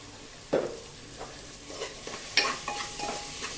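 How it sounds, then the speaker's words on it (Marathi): Onion sautéing with salt in a pan for a Maharashtrian potato curry, with a spatula scraping and stirring in several distinct strokes over a low, steady sizzle, close and fairly quiet. "कांदा पटकन परतला जाण्यासाठी याच्यामध्ये आपल्याला घालायचंय मीठ"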